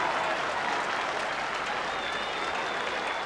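A football crowd at a 1986 North Melbourne versus St Kilda match claps and cheers after a goal, a broad, steady wash of applause filling the whole moment.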